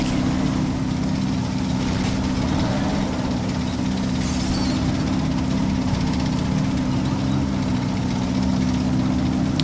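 A vehicle engine idles steadily in a 4v4 town battle in the video game Men of War: Assault Squad 2, a constant low drone running unbroken throughout with no talk.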